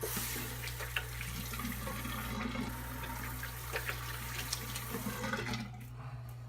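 Water runs steadily from a tap while someone rinses off, a loud continuous splashing rush with a low hum underneath, easing off near the end, no talking.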